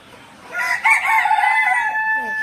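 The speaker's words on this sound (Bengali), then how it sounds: "এগুলো না মুরগি," A rooster crows once, loud and close, with a drawn-out strained call over quieter farmyard fowl sounds.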